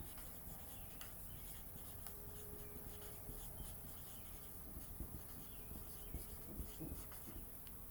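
Marker scratching across a whiteboard in a steady run of short rubbing strokes, fairly faint and continuous over a low background hiss, with no talking.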